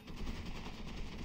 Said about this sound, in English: Nice dive in the midst of machine gun fire.